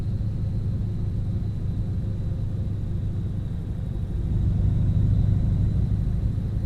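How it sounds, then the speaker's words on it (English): A DAF truck engine in Euro Truck Simulator 2 drones as a steady low rumble, swelling slightly louder partway through as it is revved harder, with no talking. "this DAF is working a lot better when you rev it harder"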